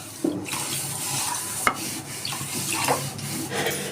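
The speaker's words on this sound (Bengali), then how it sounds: "সেই কাপে আমি তিন কাপ জল দিয়ে দিচ্ছি" Three cups of water splash and pour into a pot holding one cup of sugar for syrup, a short, close, rushing pour with a few knocks.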